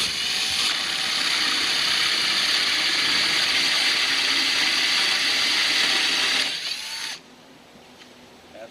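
A power drill bores hinge holes in a rear door, a loud, sustained whirring whine that runs for several seconds before cutting off abruptly, leaving quieter background.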